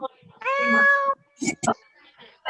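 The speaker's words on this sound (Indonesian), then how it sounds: "Kucing sedang mencari makan." Cat meowing while looking for food, one long drawn-out close meow followed by a couple of shorter chirpy calls.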